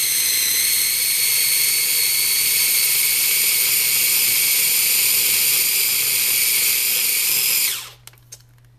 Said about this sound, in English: I'm just going to grind this little bit up here, get this butter going